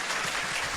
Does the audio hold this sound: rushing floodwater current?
no